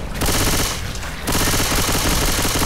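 Dense gunfire from Left 4 Dead 2, loud and continuous with rapid repeated shots, briefly thinning in the middle before resuming at full intensity.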